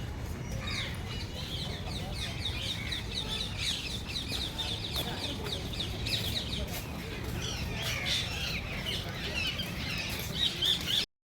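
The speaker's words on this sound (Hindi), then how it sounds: "तरफ तोते, इतने तोते बैठे हुए हैं, कैसे चेक कर रहे हैं, चहचहा रहे हैं तोते, बहुत ज़्यादा तोते" Large flock of parrots in trees near the riverside steps at Sabarmati Ashram, Ahmedabad, squawking and chirping continuously, busy chatter throughout over steady outdoor background noise, no one speaking.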